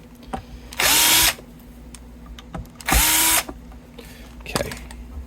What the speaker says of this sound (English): when I use a power drill on a guitar.